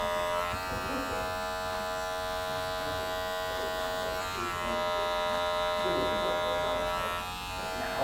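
Electric hair clippers buzz steadily and close up while tapering a skin fade, with a constant droning hum that dips slightly as the blade moves across the head.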